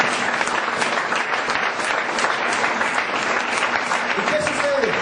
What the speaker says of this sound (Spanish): Vamos a brindar un fuerte aplauso a eso.